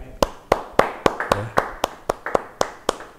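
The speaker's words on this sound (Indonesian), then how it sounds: "Ayo beri tepuk tangan yang baik." Steady rhythmic clapping at a church Bible study session, with about a dozen evenly spaced, sharp claps in a quick beat, close and loud.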